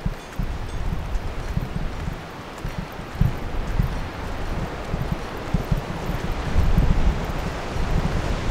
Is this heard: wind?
yes